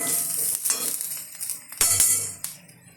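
A spoon stirs coriander powder into a curry frying in a pan, with a steady sizzle and scraping strokes that swell in short bursts. No one speaks.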